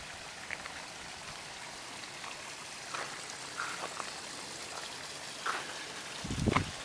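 A waterfall gives off a steady, soft rush of falling water with faint splashing, and a brief low thud comes near the end.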